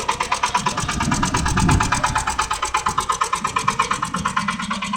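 A Shifeng 240 diesel tractor engine from late 2023 chugs steadily at close range, with a rapid, even rhythmic knock throughout and a slight rise in revs partway through.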